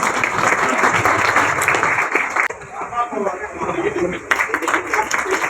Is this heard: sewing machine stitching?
no